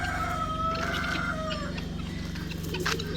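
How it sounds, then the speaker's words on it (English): Rooster and guinea fowl squaring off in a fight, with loud crowing and clucking calls over a constant low farmyard rumble and clatter, sustained throughout. "there was a fight here, but I don't know who won between a guinea fowl and a rooster."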